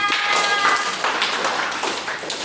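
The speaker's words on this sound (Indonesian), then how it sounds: "Tepuk tangan untuk semuanya." A group clapping hands at a school training session, with short uneven bursts of claps and taps rising and falling over two and a half seconds, fairly close.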